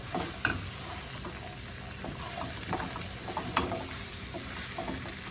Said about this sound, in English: I'm just gonna add my potatoes. Mix that in there.